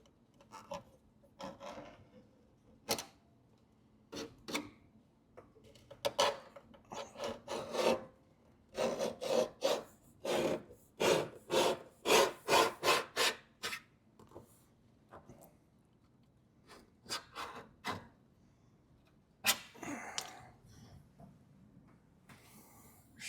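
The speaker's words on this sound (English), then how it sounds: "I took a little scribe or scratch thing here and just mark all the edges where I want to cut it." A scribe scratches cut lines along the edges of a cab corner patch panel on a 1988–98 Chevy OBS truck, heard as a series of short rasping strokes, sparse at first and then rapid and rhythmic before slowing again.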